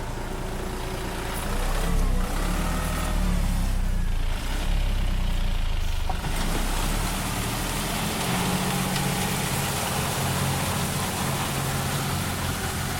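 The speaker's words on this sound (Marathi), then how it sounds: "हा ट्रॅक्टर चालू झालेला आहे." A tractor engine running in a rice paddy field, a loud, steady low rumble with broadband noise that swells for a few seconds and then settles into a constant drone.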